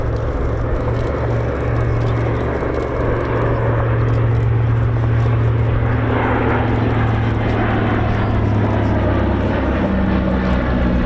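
A flying boat with two radial engines mounted above the fuselage passes at an air show, a loud continuous propeller drone that swells slightly and holds steady, with no talk over it.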